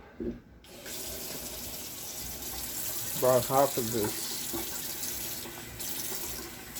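A kitchen tap runs with a steady, fairly quiet stream while someone speaks a few words over it.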